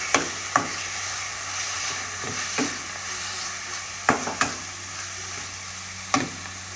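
Green chillies frying with browned onions for a small desi bitter gourd curry: a continuous close sizzle broken by a few sharp spoon knocks and stirring scrapes against the pan, no voices.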